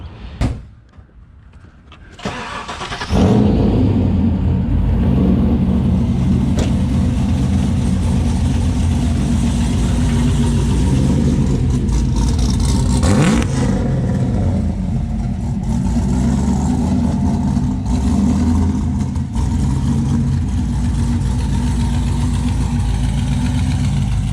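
A 1982-1992 Camaro with exhaust cutouts in loud mode starts and then idles with a deep, steady rumble, the engine note loud and close with slight swells in revs throughout.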